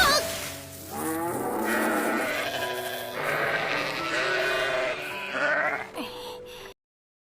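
Goats bleat repeatedly in an anime scene, several overlapping wavering calls close by, fairly loud, ending abruptly in silence.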